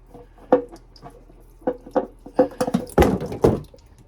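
Engine oil draining from a 1994-1996 Chevrolet Impala SS splashes into a pan below in a series of sharp, close wet drips and spatters, irregular at first and then bunching into a quick cluster, with no talk.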